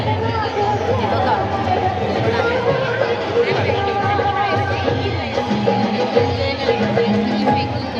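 A busy hubbub of many voices surrounds the stalls at Charkop Malvani fair, constant and fairly loud, with occasional nearer voices rising briefly out of the babble.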